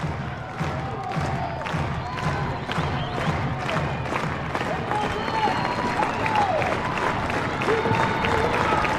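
Crowd at an Ole Miss vs LSU NCAA softball game cheers and applauds steadily as a strikeout looms, a sustained roar under the announcer's talk with whistles rising near the end.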